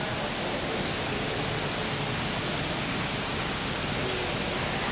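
A waterfall roars as a steady, dense rush of falling water along a trail, loud and constant with no voices over it.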